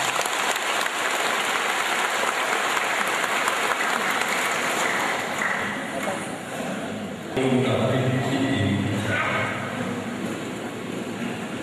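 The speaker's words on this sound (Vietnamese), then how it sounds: "bằng một tràng pháo tay" Congregation applause inside a Catholic parish church during a celebratory Mass, a loud sustained round of clapping; partway through, a voice begins speaking over it while the clapping continues.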